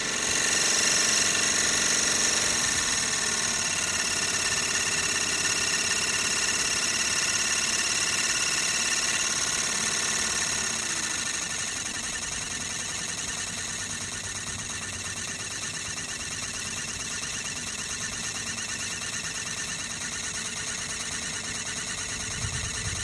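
A gas burner fires beneath the boiler of a Sirius steam engine generator, a steady loud roar with a hissing, whining edge that drops to a lower, quieter rumble partway through, no voices.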